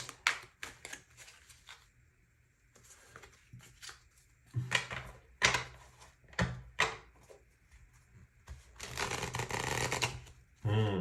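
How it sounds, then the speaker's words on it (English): A deck of tarot cards is shuffled by hand indoors, giving quiet bursts of riffling and slapping card noise in an uneven rhythm, with a longer, denser riffle near the end. "So as I'm shuffling the deck, sometimes I have a bad shuffle"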